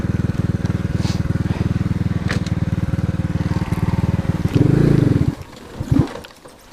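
An Alfa enduro moped pulling away through swampy ground, its small single-cylinder engine chugging in a rapid, loud, even pulse before revving harder, then cutting off into quiet.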